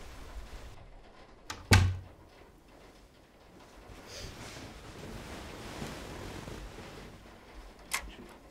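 A door is tried and found locked: one sharp thunk of the handle or door rattling against its frame, then quiet room ambience with faint rustling and a small knock near the end.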